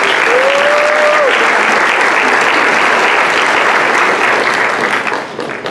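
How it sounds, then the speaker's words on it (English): A pageant audience gives three women a big round of applause, steady and loud crowd clapping over nearly six seconds that tapers slightly at the very end, with no talk over it. "let's give these three ladies a big round of applause"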